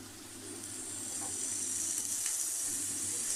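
Grated potato shreds frying in hot oil with onions for a veg spring roll filling, a constant bright sizzle that swells slightly louder, with a couple of faint stirring taps, close and steady without speech.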